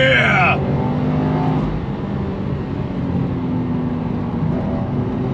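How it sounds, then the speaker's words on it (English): Subaru WRX with a manual gearbox pulling hard on throttle in third gear, a steady engine drone heard from inside the cabin, loud and continuous, with someone talking over it. "All right, guys, on throttle, here we go. Third gear."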